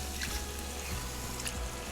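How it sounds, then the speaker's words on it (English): Half a cup of water poured into a pot of shrimp masala curry, a brief steady splashing rush with faint sizzling, close and alone. "I'm going to add about half cup of water, so it gives a little gravy to that curry"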